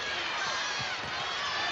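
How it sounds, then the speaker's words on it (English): A basketball arena crowd at an Illinois at Iowa college game gives a sustained roar, dense and fairly loud, with a few deeper thumps and shouts inside the noise. "Listen to the crowd respond to Jepson."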